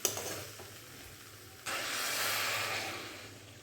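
Hot water hits a pan of frying potato curry with a sudden loud sizzling hiss that takes over from gentler frying and holds steady, close by.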